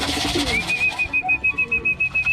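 Pigeons being fed coo and flutter nearby while a repeated high whistle pulses in short even bursts over a busy background.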